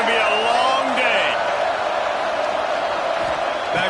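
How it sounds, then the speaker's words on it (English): A football stadium crowd at a Texas vs Michigan game roars in a dense, sustained wash of cheering and whoops under a commentator's voice, filling the entire stretch at high volume. "This crowd, full throat, splitting the eardrums"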